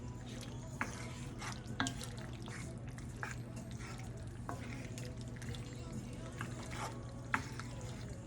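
A pasta mixture is stirred in a pan, soft close scrapes and light clicks recurring every second or so over a faint steady hum and low sizzle.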